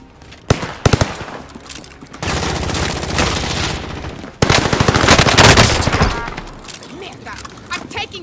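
Video game gunfire: a couple of sharp single shots followed by two long bursts of rapid automatic fire, loud and close, with brief quiet gaps between.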